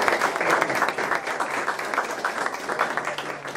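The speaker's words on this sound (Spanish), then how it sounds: "Por favor, un aplauso" An audience at a health centre accountability event in Naranjal applauds with a steady, fairly faint patter of many hands clapping throughout.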